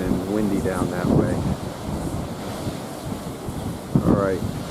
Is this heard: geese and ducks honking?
no